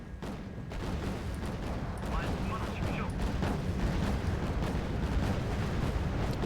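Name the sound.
ship explosion in ammo room, video game Wargame Red Dragon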